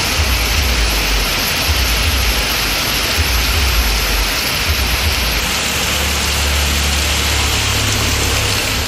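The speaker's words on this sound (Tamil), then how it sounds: "சிவகங்கை மாவட்டம் மானாமதுரையிலும் கனமழை பெய்தது." Heavy rain pouring down in Manamadurai, Sivaganga district, a loud, dense, continuous hiss over a low rumble, with no talking.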